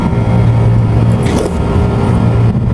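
A Fuji Electric 40,000 BTU air conditioner compressor with an error 0F fault runs with a steady, loud low hum and motor drone, close by, with no speech.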